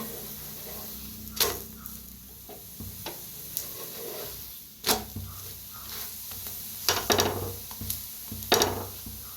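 Methi dhapate, a fenugreek flatbread brushed with oil on both sides, roasting in a pan, with a steady low sizzle broken by sharp scrapes and taps of a spatula as it is flipped, close and moderately loud.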